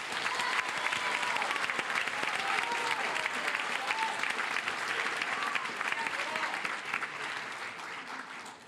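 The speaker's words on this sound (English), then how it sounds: "Let's give them a big round of applause." A sustained round of applause fills a school honors night for a Science Olympiad team, with many hands clapping steadily and a few voices murmuring faintly beneath before it tapers slightly at the end.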